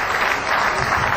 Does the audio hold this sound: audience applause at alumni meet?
yes